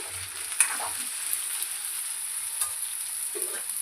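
Potato masala curry stirred in a pan, a quiet steady sizzle with occasional soft scrapes and taps of the spoon, close by and without speech.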